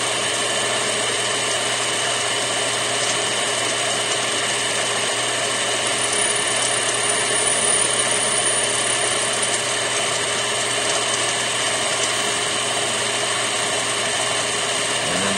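A lathe cuts string ferrules for a Gibson Moderne guitar, giving a steady, continuous mechanical whir with a constant high whine, loud and close and running evenly throughout with no talk.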